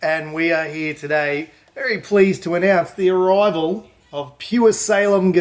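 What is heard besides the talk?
No everyday noises stand out.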